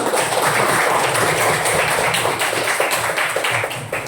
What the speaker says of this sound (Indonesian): Tepuk tangan itu semua.